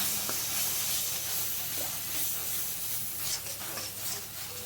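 Cumin and coriander powder with other spices sizzle as they are fried and stirred in a pan for a pointed gourd dolma, a steady close hiss with faint scraping and no talking.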